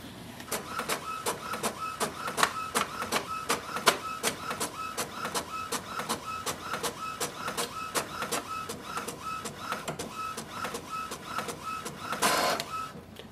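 Epson WorkForce WF-4830 inkjet printer printing, a rapid, regular train of close mechanical clicks and whirs as the print head shuttles, ending in a brief louder paper-feed rush, with no one speaking.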